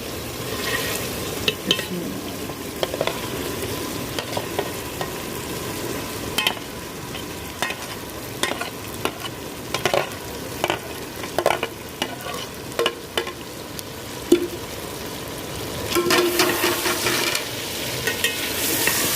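Fried okra is stirred into sizzling masala in a pan, with a steady frying hiss broken by repeated spoon scrapes and clacks throughout, loud and close, with no speech.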